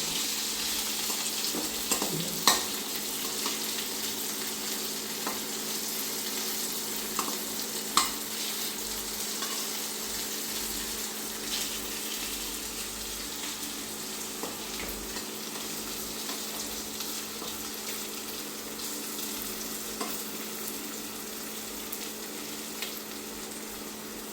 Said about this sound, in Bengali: আলুগুলি উপর ভাজা হয়ে গেছে, এখন আবার অনেকটা উল্টে দেবো